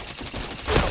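Short burst of rapid video game gunfire during a headshot, dense and loud, crackling close up within a single second.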